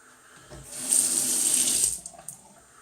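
Tap water runs over a Gillette Sensor razor to rinse off shave cream, a close steady splash lasting about a second before it trails off into small drips and clinks.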